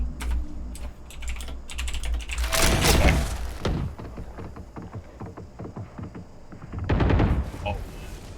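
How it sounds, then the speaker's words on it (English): Computer keyboard typing during a Valorant match, with rapid clicking keystrokes mixed with game gunfire bursts and voices chatting. "Sorry, I was typing."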